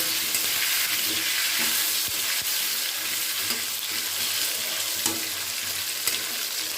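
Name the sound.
stirring potatoes with turmeric and salt in frying pan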